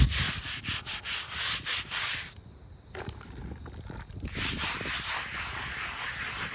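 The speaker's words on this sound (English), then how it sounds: "Scrub the words just a little bit." Brushy scrubbing on the carved lettering of a stone, with repeated close rasping strokes and a brief pause before the rubbing resumes.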